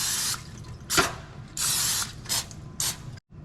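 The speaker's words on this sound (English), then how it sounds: "we're just gonna spray our pan here with a little Pam" Several short hissing bursts of cooking spray onto a pan, close and fairly loud, with brief pauses between them and no talking.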